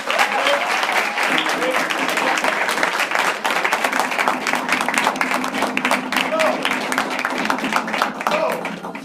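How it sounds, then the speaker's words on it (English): An audience claps for a young drummer just after she finishes playing paradiddles at a youth leadership event, a dense, steady wash of applause lasting throughout, with faint voices and cheers mixed in. "Clap your hands for her."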